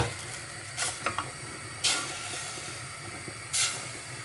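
About 1.5 tablespoons of butter melting in a pan for Jamaican steamed cabbage, giving off three short bursts of hissing sizzle over a faint, steady background with no talking.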